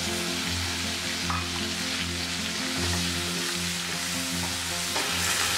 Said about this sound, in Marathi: टोमॅटो चांगलं मिक्स करून घेऊया